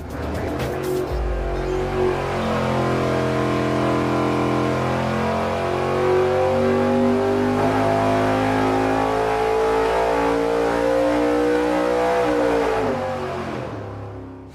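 An engine on a dyno with a nitrous plate kit jetted for a 275 shot, roaring loud and close as it revs steadily upward through a long sustained pull for about eleven seconds before the throttle drops off, no voices.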